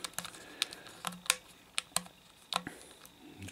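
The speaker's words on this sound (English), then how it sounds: "you hold him down, you spin him around, get it to click in place." Small Yoda action figure from Star Wars Galaxy of Adventures being twisted and spun, giving a series of sharp plastic clicks and ticks, about a dozen irregular snaps close up with no talking.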